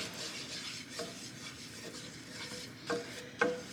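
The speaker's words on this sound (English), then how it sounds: "mix this all up together, cook off that raw flour flavor." Flour and olive oil stirred in a skillet to make gravy, soft scraping strokes with a faint sizzle underneath and a couple of sharper utensil taps near the end.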